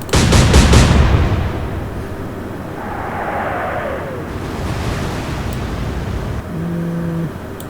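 Naval artillery fire in the naval warfare game Atlantic Fleet, a heavy booming salvo at the start that rolls off into a long rumbling tail over ocean ambience, with faint later effects.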